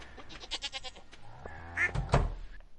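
Sheep and goats bleating in Stardew Valley, a few short wavering animal calls close and clear, followed by a soft thunk and a brief higher bleat near the end.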